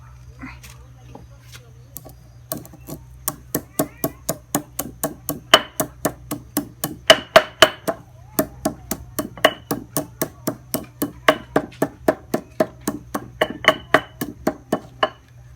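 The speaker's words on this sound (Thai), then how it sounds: "ตำเครื่องครับพริกไทยลงไปครับ" Peppercorns and spice paste pounded in a mortar with a pestle, for steamed free-range chicken with Thai herbs: a long run of sharp, steady thuds, close and loud, over a constant low hum.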